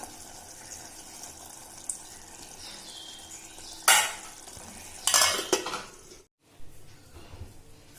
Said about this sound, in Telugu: ఇప్పుడు కొంచెం వాటర్ పోసుకొని మనం ఒక 10 మినిట్స్ పులుసుని బాగా ఉడికించుకోవాలండి